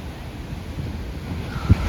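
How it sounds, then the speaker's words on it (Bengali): Rough Mediterranean sea off Italy after a stormy night, heard as a continuous roar of surf and wind buffeting the microphone, with a single heavier wave thump near the end. "দেখেন সাগর বিশাল উত্তাল"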